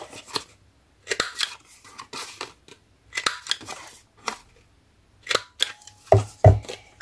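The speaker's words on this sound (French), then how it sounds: "Donc on va couper." Scissors snip paper for a handmade scrapbook album in a series of short, close cuts in irregular bursts, with a few brief rustles near the end and no talk.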